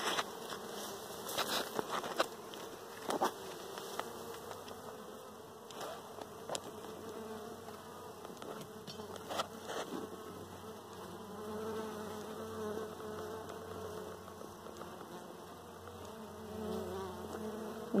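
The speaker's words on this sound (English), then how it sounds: "Nice little happy buzz." Honeybees buzzing steadily inside a closed winter hive after being fed homemade fondant patties, a continuous close drone with a few faint knocks and bumps.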